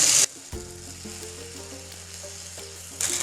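Paratha batter poured into an oiled pan gives a loud sizzle that settles into a steady close frying hiss, with a brief clatter near the start and end and no talking.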